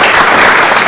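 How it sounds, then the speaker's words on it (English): Loud, dense applause from a crowd, a steady wash of clapping with no pauses, briefly. "give them a hand of applause"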